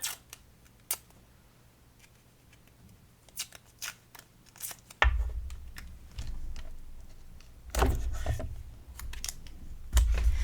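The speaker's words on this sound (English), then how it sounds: "now we'll just take some tape and we'll stick that down" Tape being peeled off a roll and pressed down on a mixed-media craft background gives scattered, crisp crackles and ripping ticks, with faint taps and a low hum growing in the second half.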